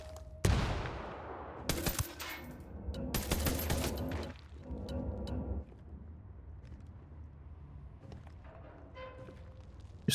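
Video game gunfire rattles out in loud volleys: an initial sharp crack, then dense bursts of automatic fire for a few seconds, fading into sparse distant shots and background noise.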